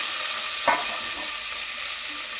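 Crushed garlic, curry leaves and mustard seeds frying in oil in a pan: a loud, even hissing sizzle throughout, with one brief stirring scrape near the start.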